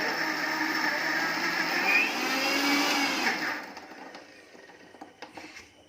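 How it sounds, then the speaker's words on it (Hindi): A mixer grinder whirring loudly and steadily as it grinds peanuts and jaggery into a fine paste, then stopping, followed by a few faint clicks and knocks. "अब इसमें हम आधा कप गुड़ भी डाल देंगे और इसे फिर से ग्राइंड कर लेंगे और फाइन पेस्ट बना लेंगे"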